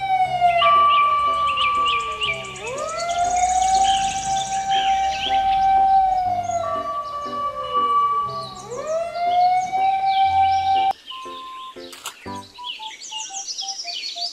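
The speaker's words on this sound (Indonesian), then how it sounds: "mobil truk pemadam kebakaran" Electronic siren from a toy fire truck wailing in repeated rising and falling sweeps, loud and close, with chirpy toy-like tones and a brief switch to beeping notes near the end.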